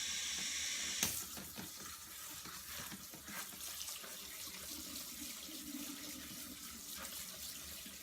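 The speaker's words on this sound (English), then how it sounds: "Now I'm going to rinse them with some cool water." Cool tap water runs steadily into a kitchen sink to rinse food, a continuous splashing rush that stays fairly faint and even throughout.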